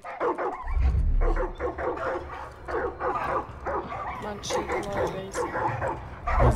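A pack of dogs barks and yips continuously in the Far Cry 5 video game, close and insistent, over a low rumble at the start, with a voice speaking along with the barking.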